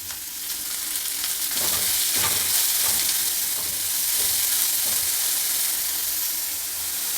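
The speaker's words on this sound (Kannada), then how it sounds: "ಜೀರಿಗೆ ಎಲ್ಲ ರೋಸ್ಟ್ ಆಯಿತು ಈಗ ಕರಿಬೇವಿನ ಸೊಪ್ಪನ್ನ ಸಣ್ಣದಾಗಿ ಹಚ್ಚಿಟ್ಕೊಂಡು ಹಾಕಿದೆ ಮತ್ತು ಈರುಳ್ಳಿ ಎರಡು ಸಣ್ಣ ಈರುಳ್ಳಿನ ತುಂಬ ಸಣ್ಣದಾಗಿ ಕಟ್ ಮಾಡ್ಕೊಂಡು ಹಾಕ್ತಾಯಿದ್ದೀನಿ" Onions and finely chopped curry leaves sizzle steadily in hot oil over roasted cumin, a continuous bright frying hiss with occasional crackles and stirring scrapes, close and alone without voices.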